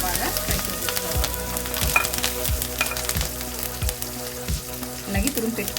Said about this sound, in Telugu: కొద్దిగా జీడిపప్పు, కరివేపాకు, పచ్చిమిర్చి వేసేసి బాగా ఫ్రై చేసుకోవాలి